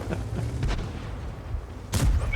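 Tank guns fire in the video game World of Tanks, with three sharp, booming shots spaced unevenly over a couple of seconds against a low rumbling background.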